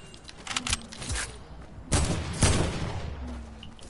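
Sniper gunfire in the video game Fortnite, heard as several sharp cracks and booming reports spaced irregularly, with a couple of louder shots standing out over low game ambience.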